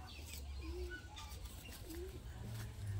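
Pigeon cooing, two soft low coos about a second apart, close but quiet over a dull background hum.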